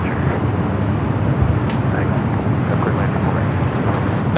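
A cargo airplane taking off at LAX, a broad distant jet roar with wind noise on the microphone and someone talking over it.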